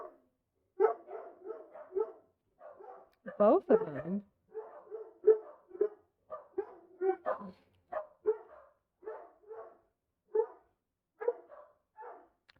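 Two guard dogs at a house bark rapidly and repeatedly in quick runs, fairly close, while a person speaks briefly over the barking.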